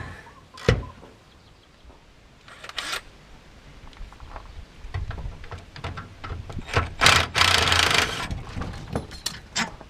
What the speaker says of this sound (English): I'm gonna use an impact.